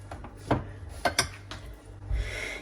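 A knife dices warm boiled chicken breast on a cutting board with a few separate, sharp taps spaced over a couple of seconds, close by and fairly quiet.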